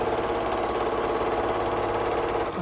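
A home sewing machine runs steadily, stitching a fabric basket, with a continuous close motor whir and rapid needle chatter that holds without pause and dips only briefly near the end.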